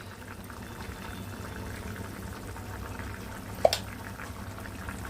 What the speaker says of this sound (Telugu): పులుసు అయితే మరుగుతుంది.